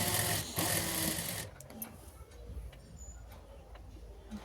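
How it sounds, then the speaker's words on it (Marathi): A sewing machine stitches around the edges of bedsheet fabric, a fast whirring run for about a second and a half, then stops, leaving faint handling noise close by. "हे बघा आता आपण चारी बाजूने कडेने शिलाई मारून घेणार आहे."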